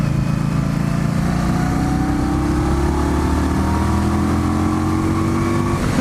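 Indian Scout Bobber motorcycle engine pulling hard at full throttle, a loud continuous drone with rising harmonics as it accelerates, steady and close throughout.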